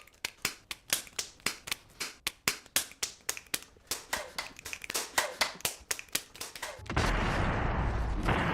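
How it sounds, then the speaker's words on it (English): A single pair of hands claps in an uneven, fairly quick series of sharp, close slaps, about two dozen in all, before giving way to a steady broadband hiss at the end. "How dare you clap in my face"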